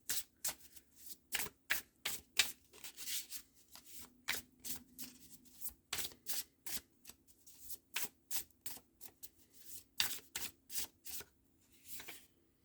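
Astrology cards being shuffled by hand, heard close and fairly quiet as a quick, steady run of crisp riffling bursts with short gaps between them.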